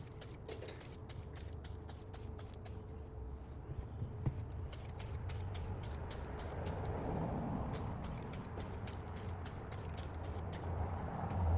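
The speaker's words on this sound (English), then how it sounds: "just spraying this from the top is not gonna do a proper job" Rapid bursts of spray paint hissing in quick repeated pulses, close by, painting a Lexus LX / Land Cruiser wheel, over a steady background rumble of traffic.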